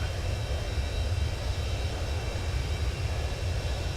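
Steady, droning hum of aircraft engines in an A220 flight simulator game, continuous and even throughout.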